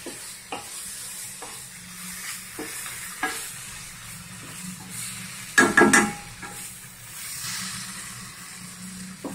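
Mutton pieces frying in a pan over medium flame, a steady soft sizzle with intermittent scraping stirs and one louder clatter of the spoon midway.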